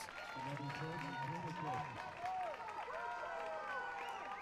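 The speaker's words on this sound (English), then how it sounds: "crowd starting to get loud, starting to get into it" A crowd at a men's NCAA college soccer match between UC Irvine and UC San Diego cheers and claps in the stands, a broad steady roar under the play-by-play commentators' voices.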